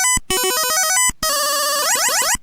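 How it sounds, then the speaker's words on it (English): Intro music from the Galaxian arcade video game: loud, bright electronic chiptune tones stepping rapidly up and down in short bursts, broken by brief gaps and ending in rising sweeping glissandi. "that little intro from Galaxian"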